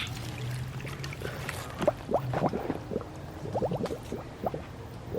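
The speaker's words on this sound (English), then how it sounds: "it's just a little garden hose, and I don't like to fill it up a lot because I don't want to make the water churn" A small garden hose trickles slowly into a pond, making quiet bubbling, gurgling splashes in uneven bursts against a low background hum.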